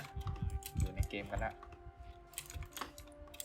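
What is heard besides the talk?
keyboard typing while playing a computer game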